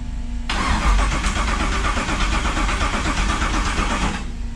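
An LS-swapped Chevrolet El Camino's engine cranks steadily without catching, a loud, continuous churning starter whir running for about four seconds before it stops, close and alone.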